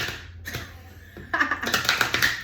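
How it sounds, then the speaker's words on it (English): Soft papery riffling and clicking of playing cards being shuffled on the edge of a table, quiet at first, then a louder burst of rapid ticking flutters in the second half. "I'm trying to shuffle on the edge of the table here"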